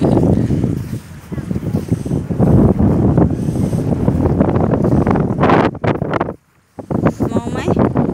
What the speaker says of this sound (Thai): ลมแรงอ่ะลูก